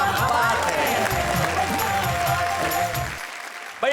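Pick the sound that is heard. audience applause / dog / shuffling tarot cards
audience applause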